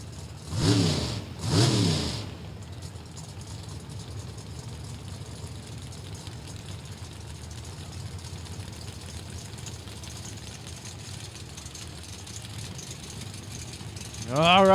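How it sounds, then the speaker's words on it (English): Nitrous oxide purges on drag racing cars, including a Chevrolet Camaro, at an NHRA Division 3 strip: two loud, close hissing bursts in quick succession, then a low, steady engine rumble that lingers until a rising engine note at the end. "The purge of the nitrous oxide for both drivers as they ready for round number 1 of battle."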